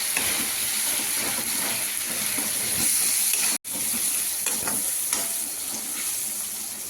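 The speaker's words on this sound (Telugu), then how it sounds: "ఇలా ఉల్లిపాయ పచ్చిమిర్చి అన్నీ బాగా ఫ్రై అయిపోయింది" Onions and green chillies fry in a pan for a prawn and gongura curry, giving a loud continuous sizzle with stirring scrapes and one brief break partway through.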